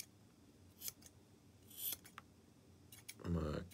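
Scissors cut the inner strands of paracord in a few short close snips, some quick clicks, then a thicker final cut with the blades closing.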